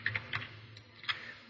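A few scattered computer keyboard keystrokes while entering a $95 interest amount into a QuickBooks Online budget, quiet and close, with short pauses between taps.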